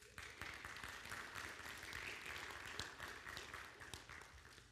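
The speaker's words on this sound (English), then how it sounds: "So give yourselves a round of applause." A church congregation applauds in a steady, soft wash of clapping that runs the whole stretch, distant and fairly faint with no talk over it.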